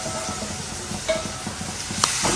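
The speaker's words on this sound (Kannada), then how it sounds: "ನೀಟಾಗಿ ಸ್ಮ್ಯಾಶ್ ಆಗೋ ಥರ ಫ್ರೈ ಮಾಡ್ಕೋಬೇಕು" Tomatoes frying in a pan sizzle steadily while a spoon stirs and scrapes in a loose rhythm, with a couple of sharper clinks against the pan.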